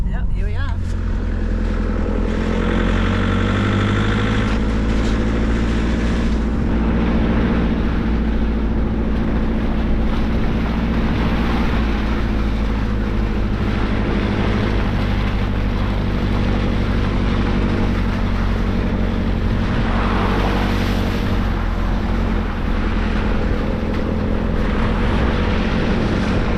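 An Iveco truck and a Nissan pull out along a slippery, wet outback dirt road, their engines giving a steady, loud, continuous rumble that lasts throughout with no speech.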